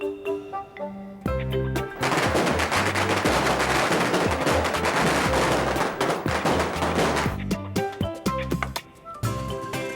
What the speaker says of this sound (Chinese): 啊，都还阁放炮啊！